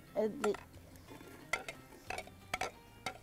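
Onions sautéing golden in a pot for a lamb mandi, stirred with a spoon in a few scraping, clinking bursts over a low sizzle, fairly quiet and close.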